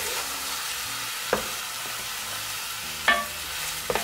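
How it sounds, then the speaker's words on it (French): Berkoukes pasta being stirred with olive oil in a pot, a soft steady sizzle with a few scraping knocks of the spoon close by. "Je vais mélanger tout ça."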